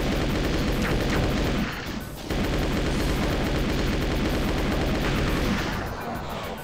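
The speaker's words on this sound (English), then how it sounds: "So I can get his chain gun and use it to kill these guys." Chaingun fire in Doom II, a continuous, loud, rapid stream of shots with a brief pause near two seconds, dense and unbroken otherwise, no talking.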